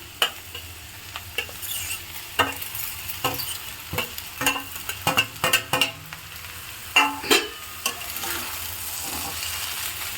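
Vermicelli pulao frying in a pan, a constant close sizzle punctuated by a run of sharp, irregular scraping and tapping strokes from the stirring spoon, with no voices.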